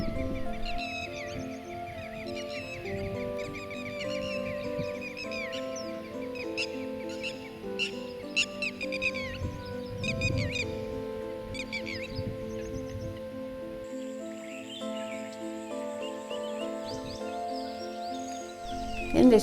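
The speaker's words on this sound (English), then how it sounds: "As you can hear, there are lots of birds along the lake shore." Many birds calling and chirping along the shore of a Kabini River reservoir lake in Nagarhole National Park, India, a busy mix of overlapping calls over a steady low background hum.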